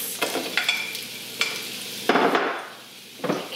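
Onions hit a large pan with bursts of sizzling and stirring, a few sharp scrapes and knocks, and a louder surge of frying partway through.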